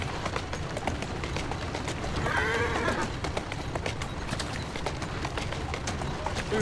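Rapid horse hoofbeats clatter steadily over a dense, busy background in Assassin's Creed Syndicate, with a brief whinny-like call partway through.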